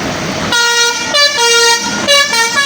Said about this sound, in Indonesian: Oke, makasih bang teloletnya.